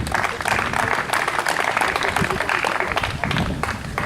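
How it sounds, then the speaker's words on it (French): An audience applauds prize winners at a 2014 open international tournament award ceremony in Aix-en-Provence, a loud, continuous patter of many hands filling the room for a few seconds. "Bravo, on les applaudit une dernière fois."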